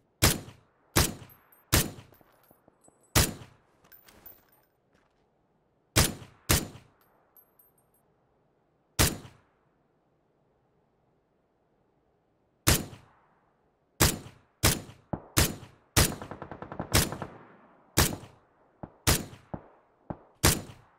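Sharp, loud single gunshots from PUBG on Xbox One, fired in irregular spaced bursts with near-silent gaps between shots and a dense cluster toward the end.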